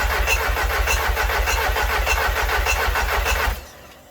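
An old car engine with oil pressure cranks with a rapid, rhythmic churning for a few seconds, then cuts off abruptly without catching.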